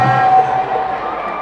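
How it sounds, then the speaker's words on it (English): Cricket spectators in a stadium roar and cheer at a possible catch off a ball driven to cover, a dense sustained crowd swell that stays loud across the whole moment. "Crowd erupts, thinking there's a catch."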